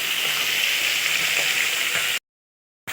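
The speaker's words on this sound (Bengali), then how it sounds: "আলু ভাজা বসিয়ে দিয়েছি" Potatoes frying in a pan in a home kitchen, a steady close hiss and sizzle that cuts to silence before briefly returning.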